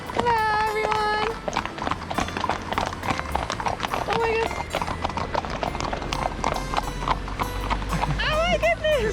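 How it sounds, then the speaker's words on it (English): Hooves of local horses clip-clop steadily close by near water outdoors, with an excited voice talking loudly over the rhythmic steps. "We're here next to some water and apparently some horses. The local horses."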